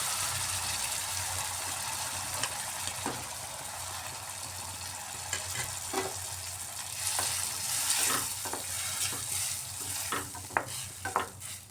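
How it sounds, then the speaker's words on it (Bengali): Onions sizzle and crackle steadily in a hot pan for chickpea and pea ghugni, with occasional scraping and stirring clicks from a spatula, close by. "পেঁয়াজটা ভাজা ভাজা হয়ে আসছে"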